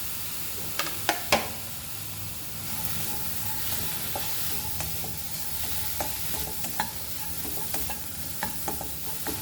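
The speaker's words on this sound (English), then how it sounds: "And we'll fry this onion." Chopped onion frying in a pan for an oil-free aloo matar, giving a steady soft sizzle throughout with occasional sharp clinks and scrapes of stirring, close and with no voices.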